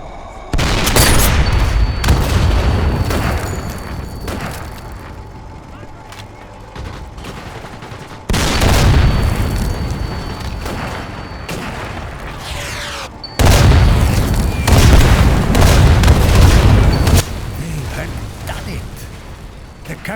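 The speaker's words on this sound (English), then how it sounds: "Captured artillery destroyed the tank and bought us another chance." Heavy artillery fire and booming explosions wreck a tank in the VR shooter Sniper Elite VR, with three loud sustained bursts of rumbling blasts separated by quieter stretches of battlefield noise.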